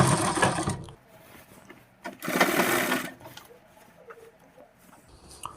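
Sewing machine running an interlock seam along the margin of a half-elastic pant, with two close, loud bursts of rapid whirring stitching separated by quiet pauses and small handling clicks.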